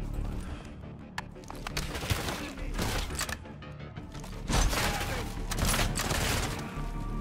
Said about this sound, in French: On me tire.